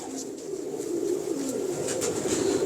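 Rare old-breed pigeons coo close by, soft repeated throaty calls layered over one another in a steady murmuring stream, with no talking.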